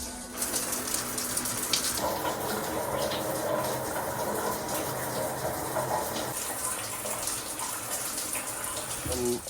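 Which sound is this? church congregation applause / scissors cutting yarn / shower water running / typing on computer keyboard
shower water running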